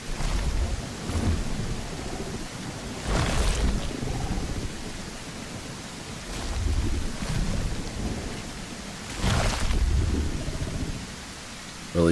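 Rain in the dinosaur survival game The Isle, a steady wash of rainfall with repeated low rolling thunder rumbles swelling and fading across the stretch, no voices.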